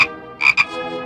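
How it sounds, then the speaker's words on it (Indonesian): A short rasping double croak from a frog sounds close and distinct after a brief lead-in tone, then trails into quiet. "Tuhan memenuhi seluruh tanah Mesir dengan katak"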